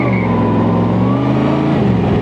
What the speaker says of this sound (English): A little bit of wheel spin there.